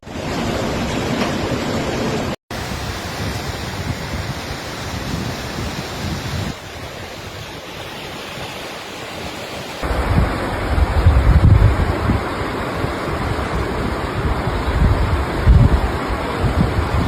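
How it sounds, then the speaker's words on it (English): Torrent of floodwater from rivers overflowing into towns of the Kłodzko Valley in Poland, a steady broadband roar that continues without break, briefly dipping before growing louder and heavier in the second half, with no voices. "the rivers have overflowed, flooding buildings and leaving the areas accessible only to the emergency services"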